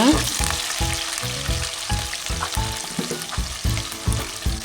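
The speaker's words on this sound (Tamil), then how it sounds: "கருவேப்பிலை போட்டு வதக்கி விட்டுருங்க" Small onions and curry leaves fry in oil for an eggplant kuzhambu, a close, steady sizzle punctuated by rhythmic stirring scrapes at a regular beat.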